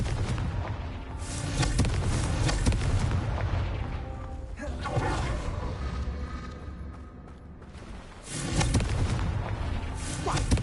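A Confringo fire spell from Hogwarts Legacy bursts into a loud, sustained roar of blasts and rumbling impacts, dipping briefly in the middle and flaring up again near the end.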